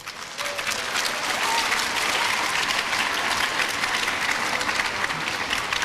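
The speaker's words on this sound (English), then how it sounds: "So give yourselves a round of applause." An audience at a youth ambassadors excellence program gives itself a round of applause, a dense, even wash of clapping that swells in quickly after a moment and holds steady throughout.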